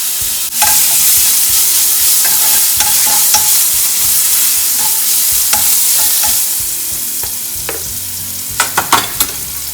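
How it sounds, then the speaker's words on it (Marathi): Chilli and garlic roast in hot oil with cumin for baingan bharta, a close, loud sizzle with rhythmic scraping and tapping of a spatula against the pan, a few sharper knocks at the end. "छान खरपूस भाजून घ्यायचं हे"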